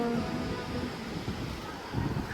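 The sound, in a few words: fast-flowing river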